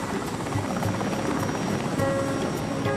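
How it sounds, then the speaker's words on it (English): Helicopter lifting off from Santa Ana, a steady, loud rotor roar with a rhythmic blade chop that holds constant and close throughout, with no voices. "Just after 9 a.m., the helicopter lifts off from Santa Ana."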